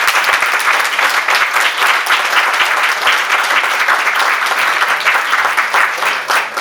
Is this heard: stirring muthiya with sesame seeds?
no